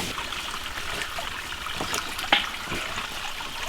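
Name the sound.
water trickling and flowing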